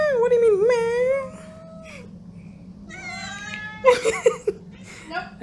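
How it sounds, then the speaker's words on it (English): A cat held in someone's arms lets out long, wavering meows and caterwauls, loud and close, with a rising yowl early on and sharp protesting cries near the end, while people talk nearby. "That cat don't like that. That's for sure."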